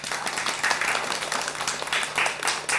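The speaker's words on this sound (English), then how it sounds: "So please give him a huge round of applause." Audience applause for a panelist, Dr. Ray, director of Jaipuria Institute of Management, at a business school discussion event: steady, moderately loud clapping from a room of people, sustained evenly throughout.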